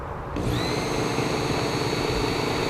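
Work Sharp knife sharpener powering up and running steadily at low to medium speed while sharpening a partially serrated knife, a continuous motor whine with a faint grinding hiss, close and alone.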